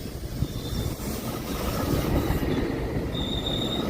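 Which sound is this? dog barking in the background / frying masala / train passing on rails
train passing on rails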